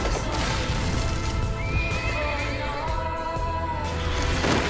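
A horse whinnies loudly in a long, wavering neigh in a Metal Gear game trailer, with hooves clip-clopping and a dense backdrop of other sound throughout.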